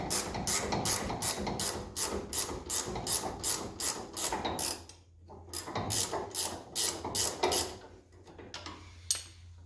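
An 8 millimeter ratcheting wrench spins a nut off a Ford Raptor front sway bar end link, clicking in quick, even bursts up close, pausing briefly, then resuming.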